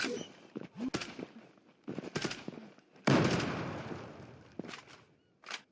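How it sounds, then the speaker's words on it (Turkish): A bomb explosion in the video game Zula: a heavy blast bursts out midway and rumbles away over a second or two, after a few sharper cracks and bangs earlier on. "Şimdi bir de size patlama anını gösterelim."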